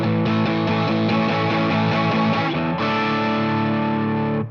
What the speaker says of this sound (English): we're going to fill out the rest of the bar with strums like this